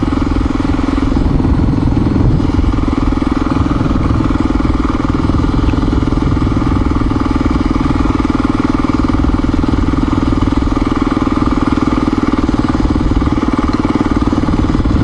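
A Honda XR400R motorcycle engine runs continuously on a rural road, a loud close steady drone with rough mechanical clatter and no pauses.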